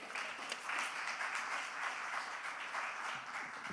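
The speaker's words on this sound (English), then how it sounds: "Give her a round of applause." Audience applause at a youth community gathering, a steady wash of many hands clapping in a room at moderate, fairly even volume, sustained with no talking over it.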